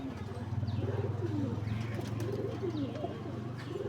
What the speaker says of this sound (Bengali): একটা কালো নর পায়রা আপনাদেরকে শখ করাচ্ছি।